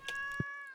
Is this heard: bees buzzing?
no